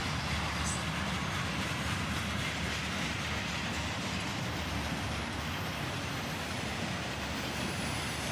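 A long freight train led by three locomotives, an AC44CW, an ET44AH and a GP38-2, rolls past close by as a steady broad rumble with a faint rhythmic clatter of wheels, no talk.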